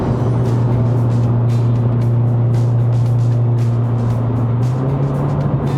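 An MK5 Volkswagen Polo GTI engine drones loudly and steadily from inside the car during a test drive in Malaysia, its pitch shifting upward near the end.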